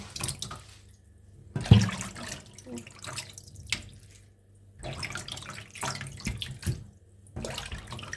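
Freshly picked wild wood-ear and oyster mushrooms are washed under running water. A tap runs in intermittent gushes with splashing and handling noises, fairly close and moderately quiet.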